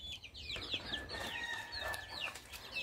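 Young chickens chirping and clucking faintly, with short high peeps scattered over quiet background noise and no speech.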